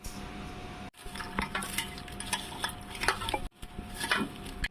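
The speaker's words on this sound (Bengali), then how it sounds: "এবার এগুলো সব ভালো করে মাখিয়ে নেবো" Mashed fig chop filling with spices is mixed and stirred in a bowl, giving steady soft squelching and scraping with light clinks of utensils, close and continuous apart from two brief pauses.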